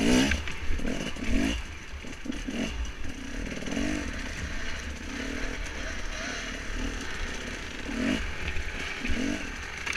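An enduro motorcycle engine over-revs hard and unevenly, its loud buzzing roar climbing and sputtering in repeated bursts close by.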